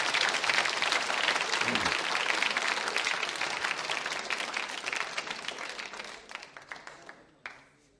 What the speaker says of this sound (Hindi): उनके सम्मान में भी तालियां जोरों से बजाइए आप